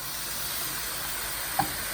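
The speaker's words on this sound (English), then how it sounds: "Like you can see, you can hear it sizzling." A flour roux for chicken sauce piquant sizzles and browns in a pan, a soft, steady hiss with a faint scrape partway through, quiet and close with no talking.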